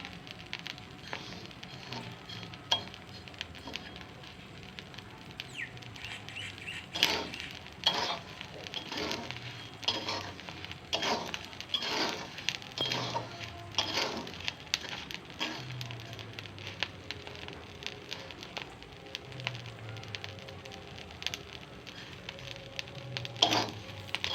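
Fuchka puris frying in hot oil, a steady low sizzle with repeated crackling bursts and spatters as they puff up, fairly faint and close by, with no talking.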